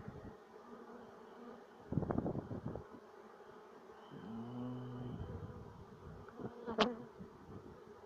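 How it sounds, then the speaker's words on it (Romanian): Honeybees buzz at an open beehive during a spring inspection, a steady close hum that wavers in pitch, with a brief rustle of handling and a sharp click near the end. "Dar avem cam puțin albine."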